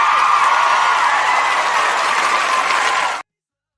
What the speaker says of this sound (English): can I get that crowd clapping thing that you keep putting on?